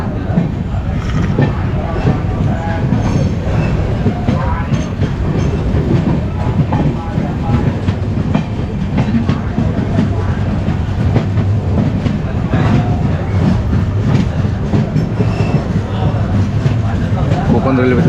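A Konkan Railway passenger train, Ratnagiri–Diva, running steadily with a loud, continuous rumble and clickety-clack of the wheels heard from on board, with people talking over it.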